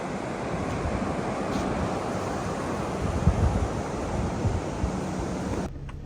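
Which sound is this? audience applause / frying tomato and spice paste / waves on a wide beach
waves on a wide beach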